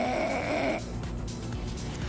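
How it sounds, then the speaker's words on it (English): A single long nasal sniff, breathy and congested, drawn in for about a second and then trailing into quiet breathing. "instead of crying outwardly, imagine sucking it all up through your like nasal throat passages"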